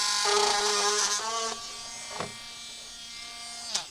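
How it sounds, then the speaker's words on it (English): A worn Dremel rotary tool whirs at close range while trimming flash, a buzzing whine that sags and drops in pitch, with a couple of short scraping bursts as it slows. "this Dremel tool's seen better days"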